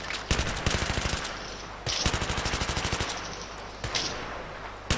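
Rifle fire in Battlefield 3 comes as loud, rapid automatic bursts at close range, with several strings of shots separated by short pauses.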